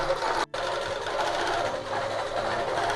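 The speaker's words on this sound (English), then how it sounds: "let's just keep on stitching till we get to the end" A quilting machine running ProStitcher Lite stitches a design in a steady, continuous mechanical whir with a rapid needle rhythm, close and fairly loud, briefly cutting out for an instant near the start before resuming without talk.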